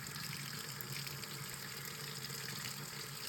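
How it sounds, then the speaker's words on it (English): Warm to hot tap water runs steadily, rinsing freshly printed resin parts from a Formlabs Form 3B printer; a constant, even hiss and splash with no talking. "Rinse each part under warm to hot water for 30 seconds."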